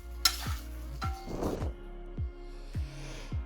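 Vegetables in a home-cooked dish sizzle and get stirred in a pan, with repeated soft scrapes and clinks of a spoon against the pan, a brief burst of frying hiss, and a quiet kitchen between strokes.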